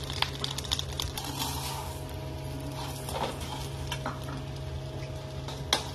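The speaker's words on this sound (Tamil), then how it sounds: "சேமியாவை வறுக்கலாம்." Vermicelli frying in ghee in a kadai for semiya payasam, a soft, low sizzle with occasional light scrapes and stirring taps from a spoon against the pan, quiet and close.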